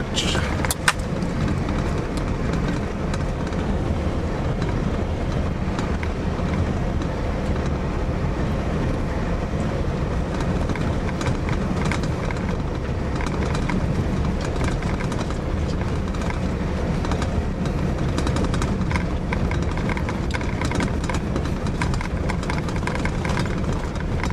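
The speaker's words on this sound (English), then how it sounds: "Some grader coming along. Start working the" A road grader working a soil-stabilized road in Sabah, its steady, heavy diesel engine rumble carrying on without a break throughout, near and fairly loud, with no clear pauses or changes in pitch.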